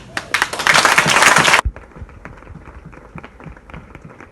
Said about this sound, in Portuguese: Então, em homenagem ao irmão Bacu, vou pedir uma salva de palmas.